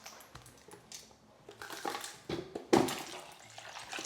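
Ice cubes clatter and splash into water in a stockpot of meat and vegetables in a few irregular drops, close and fairly quiet, one louder plunk standing out.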